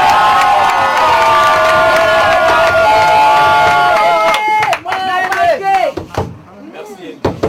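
A church congregation applauds loudly, mixed with cheering and shouted voices and a few sharp knocks, fading out after a few seconds.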